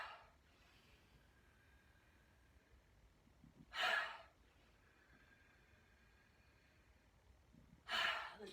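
Deep breaths during a standing stretching routine, two strong airy exhalations spaced about four seconds apart with quiet breathing between, close by and without talk.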